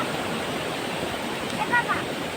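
A small river runs full after rain, its steady broadband rush of flowing water filling the scene without a break, with a faint voice briefly audible near the end.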